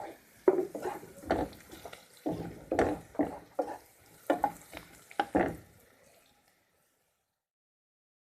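Onions and ground spices, turmeric, coriander, ginger and cumin paste, being stirred in a pan, a run of scraping strokes and soft sizzle over about six seconds before falling silent.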